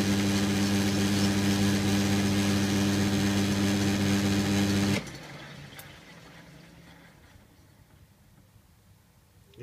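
A metal lathe runs with a steady, loud mechanical hum, then is switched off halfway and quickly falls away into a faint, fading spin-down and near quiet.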